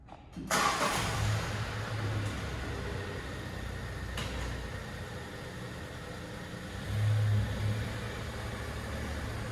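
A car engine turns over and settles into a steady idle, with a revving surge near the end; no talking.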